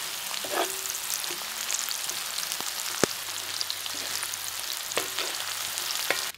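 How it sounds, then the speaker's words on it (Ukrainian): Half-boiled potatoes frying with salo (pork fat) in a pan, heard as a steady close crackling sizzle with scattered pops and occasional stirring clinks. "Додаємо напівзварену картоплю і все разом продовжуємо обсмажувати."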